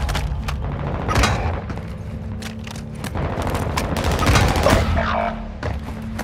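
Rapid gunfire bursts and automatic fire from a Call of Duty Warzone 2.0 Resurgence squad match, dense and loud with repeated sharp volleys over a low rumbling game backdrop, no voices.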